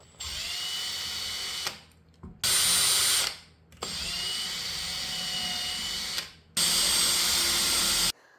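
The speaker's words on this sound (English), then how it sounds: "it'll tell me exactly where I need to drill the hole" A power drill with a very tiny bit whines in bursts drilling into wood, two longer runs alternating with shorter higher-pitched spurts, close and loud with brief pauses between.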